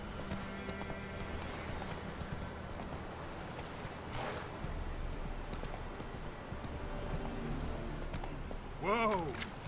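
Roach, the horse, galloping with rhythmic clip-clopping hooves in The Witcher 3, faint under background game sounds and occasional talk, ending with a brief whinny.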